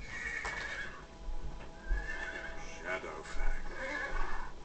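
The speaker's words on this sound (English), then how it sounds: "Shadowfax is the lord of all horses." A horse whinnies and neighs repeatedly in the Lego Lord of the Rings video game, with hooves clip-clopping beneath, the calls fairly close over a quiet backdrop.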